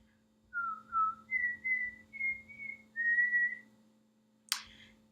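A person whistles a short, wavering tune of several sustained notes, close and clear, ending with a brief breathy puff.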